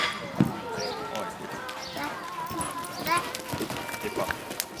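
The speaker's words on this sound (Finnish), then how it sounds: "tästä tulee hevonen" A horse at a show-jumping competition clip-clops past with a few scattered hoof thuds at moderate distance, heard beneath steady nearby conversation.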